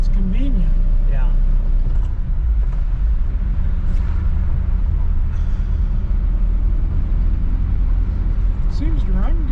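A 1959 Chevrolet Bel Air on a road ride, its engine drone and road rumble steady and close throughout, with people talking over it.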